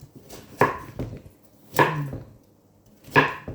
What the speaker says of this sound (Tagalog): So like this ang paghiwa ko mga kamoys. Parang cubes lang.